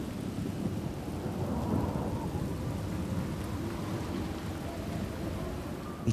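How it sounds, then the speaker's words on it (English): A violent wind storm at sea off Cape Horn, with heavy snow, roars as a loud, steady, dense rushing wash with no voices. "blew a storm of wind"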